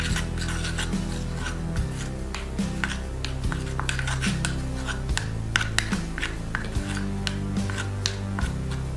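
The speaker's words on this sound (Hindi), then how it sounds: "इनको अच्छे से मिक्स कर लेते हैं।" Cream and cocoa powder being stirred together in a bowl: a steady series of close, rasping scrapes and rubs against the bowl, continuing throughout over a low tonal hum, with no talking.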